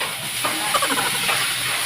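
Cooking oil spits and crackles in a hot pan with a steady loud hiss, close up, while a salmon sinigang sa miso is being made; there is no talk.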